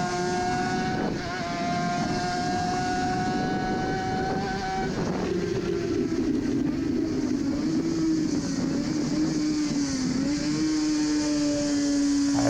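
Onboard sound of a Suzuki RG500 two-stroke racing motorcycle on a track: a loud, continuous, raspy engine whine that holds high, dips sharply at gear changes and climbs again.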